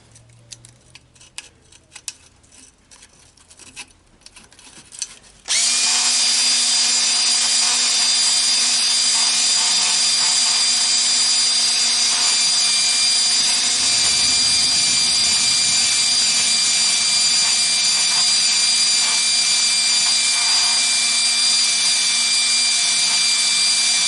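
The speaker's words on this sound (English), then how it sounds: "I just have a little brake cylinder hone here" A small brake cylinder hone, its tips oiled, spins inside the cylinder bore of a Troy-Bilt tiller engine, driven by a drill, giving a loud, steady whirring grind that starts abruptly after a few seconds of quiet handling noises and runs continuously.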